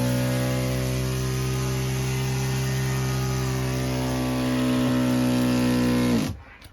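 Small air pump under inflatable cushions, muffled with Armaflex insulation and held by velcro, drones with a steady motor hum for about six seconds before cutting off abruptly. No talking.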